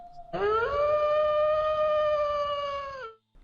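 A wolf cub in the video game Above Snakes lets out a single sustained howl, loud and close, holding a steady tone for about three seconds before cutting off.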